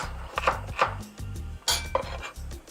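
A knife slicing ginger on a chopping board, a series of distinct close thuds and clicks at an uneven pace over a low background hum, with no talking.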